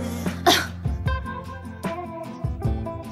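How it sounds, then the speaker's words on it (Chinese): A person coughs in a rapid fit of about five harsh, close bursts with brief gasps between them. "遇到命定之人就会止不住的咳嗽"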